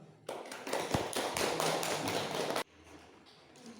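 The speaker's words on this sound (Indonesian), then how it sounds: "Biar kita semangat, kita kasih aplaus untuk kita semua tuh." Classroom applause, a dense burst of clapping lasting a little over two seconds that stops sharply, followed by quieter room noise.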